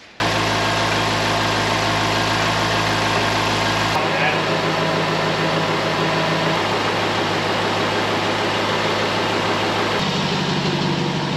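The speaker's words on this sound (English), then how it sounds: "now we'll fire it up, let it get up to temp, and get it topped off while running" A Land Rover LR4 engine being refilled after timing chain work cranks, fires and settles into a loud, steady idle close by, with a shift in its drone partway through.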